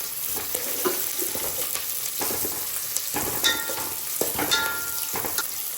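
Potato palya stir-fries in a pan with a steady, bright sizzle, broken by the frequent scrape and clatter of stirring, close and loud, with no voices.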